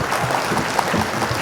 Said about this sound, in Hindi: जोरदार तालियों के साथ इस्तकबाल करें भाई महमूद असर